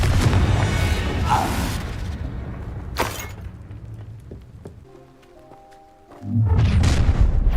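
Confringo blasting spells going off in Hogwarts Legacy, a series of loud booming bursts with crackling debris, spaced across the scene with a brief quieter lull before a final heavy blast.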